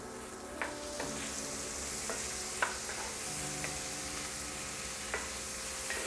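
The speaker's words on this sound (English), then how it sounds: "you wanna start adding your chorizo. And we're going to cook this for about 5 to 7 minutes" Chorizo fries in a pan with a continuous, moderately quiet sizzle, broken by periodic clicks and scrapes of a utensil stirring the meat.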